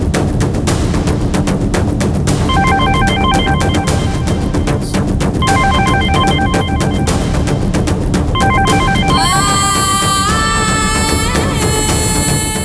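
Telephone ringing in a Malayalam TV serial household scene, electronic ringtone bursts repeating in three short spaced phrases over a dense music bed, then a brighter melodic tone at the end.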